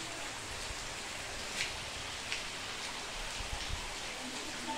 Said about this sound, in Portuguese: Muita chuva no nosso sertão